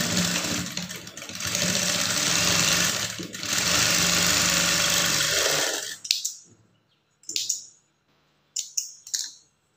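A sewing machine runs steadily for about six seconds, top stitching a lined blouse, then stops, leaving only a few short clicks and bursts of handling noise.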